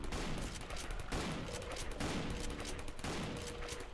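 Rapid bursts of gunfire in the video game Codename CURE, dense, loud and continuous, with repeated volleys and short gaps between clusters of shots.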